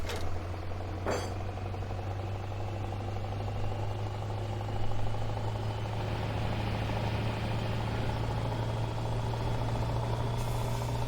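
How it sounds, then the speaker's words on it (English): A Scania truck engine in Farming Simulator 17 idles steadily, a deep, even rumble with a low drone and no voices. "that Scania sounds like it's beating something"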